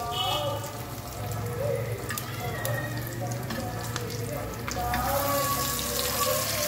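Thin fish pieces fry in a dosa pan over a medium flame, giving a moderate, continuous sizzle with faint crackles and occasional spatula scrapes, under soft background noise.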